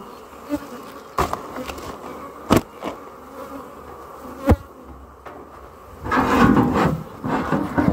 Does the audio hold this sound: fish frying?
no